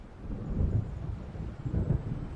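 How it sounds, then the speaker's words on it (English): Low thunder from an approaching storm in the Alan Wake video game rolls in two heavy, muffled swells, a deep continuous rumble with no talking. "It seems there's a storm coming."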